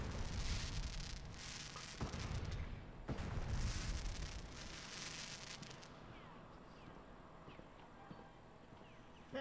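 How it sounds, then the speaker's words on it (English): Fireworks exploding in the video game Fallout 4: quiet, distant-sounding bursts and rumbling booms, with crackling pops in the first half that fade to a low hum. "Oh, they're fireworks."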